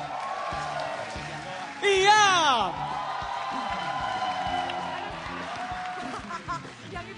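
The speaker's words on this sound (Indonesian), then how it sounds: "Beri tepuk tangan untuk Gian Luigi." A stand-up comedy crowd in Indonesia claps and cheers, with a loud whooping shout rising briefly over the sustained applause while a voice speaks through the din.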